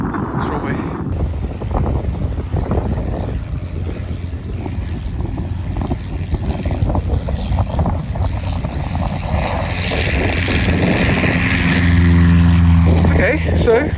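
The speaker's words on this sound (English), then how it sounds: "Be interesting to see how this Cessna 150, 152 takes off this runway." Cessna 152 light airplane on its takeoff run down a runway, engine droning steadily and swelling in power toward the end, with wind buffeting and a person talking over it.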